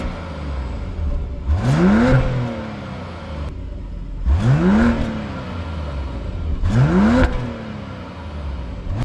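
A 2026 BMW X5 family SUV's engine in sports mode revs up three times, each rising sweep building to a moderate growl before cutting off, with steady road rumble underneath.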